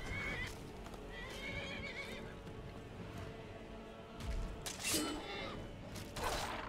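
A horse whinnies several times amid clopping hooves and rattling, mechanical sounds in the video game Skyrim, the neighs high and shrill against a busy, quiet background.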